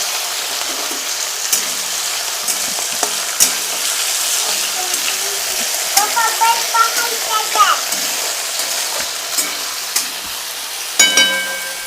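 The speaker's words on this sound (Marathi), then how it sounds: "तेल लई गरम झाले तर वाजायला लागलं सगळं" Potatoes fry in plenty of very hot oil in a kadhai for sabudana khichdi, giving a steady crackling sizzle with bursts of sharper spitting pops, close and continuous throughout.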